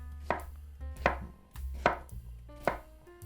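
A knife rough-chops onions on a cutting board, four distinct close, crisp chops spaced evenly about every three quarters of a second, with no talking.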